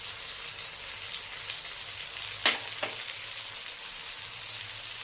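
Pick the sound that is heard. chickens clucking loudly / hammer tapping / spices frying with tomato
spices frying with tomato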